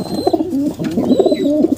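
Racing pigeons cooing close by, a few soft throaty rolling coos in quick succession.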